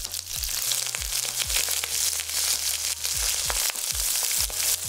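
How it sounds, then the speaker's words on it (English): Onions stir-frying in a hot pan for a vegetarian hot pot, a continuous bright sizzle punctuated by repeated scraping and tossing strokes, close and fairly loud, with no voice. "Next, we'll add the onions and stir fry for about a minute."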